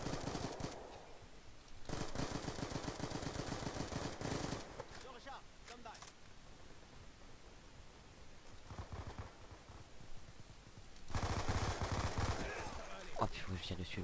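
Online Call of Duty Black Ops 2 match with bursts of rapid gunfire, long automatic volleys separated by quieter gaps, loud and close, with a player talking over parts of it.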